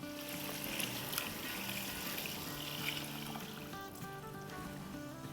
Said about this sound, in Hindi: तो अब इसमें हम डाल देंगे 6 कप पानी।